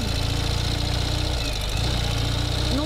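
A Ural sidecar motorcycle engine runs steadily up close, a low rumbling chug with no break, the rider holding the clutch partly in while climbing.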